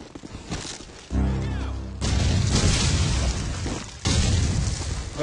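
Grenades going off in Call of Duty 4 during a Frag Dom versus PHG match, heard as several loud, close booming blasts in quick succession that overlap with heavy rumbling game noise.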